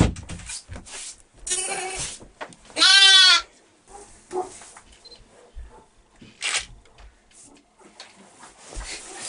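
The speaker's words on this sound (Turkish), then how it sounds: "Öztürk ailesi kış ayında ikiz doğuran koyunları Bahar'ın Ceylan ve Osman ismini verdikleri kuzularını evlerine aldı." Newborn twin lambs bleating indoors in a family home in winter, with several separate cries across the stretch, one loud, long bleat near the middle and fainter ones around it, over a low room background.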